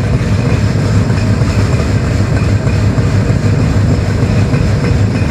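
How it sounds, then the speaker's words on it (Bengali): A train runs steadily past Nimtala railway station, its loud, continuous rumble of wheels and carriages close by with a faint clickety-clack throughout and no voices. "মোটামুটি একটা গতির সাথে আমরা পার করছি নিমতলা রেলওয়ে স্টেশন।"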